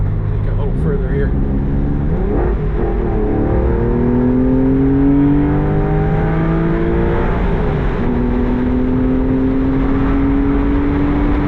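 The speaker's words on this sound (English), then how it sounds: "Beautiful day to be driving a Porsche convertible." A 2005 Porsche 911 Carrera 4S Cabriolet with the factory sport exhaust drives with the top down, its engine note climbing through repeated revving pulls and gear changes, loud and steady from inside the car.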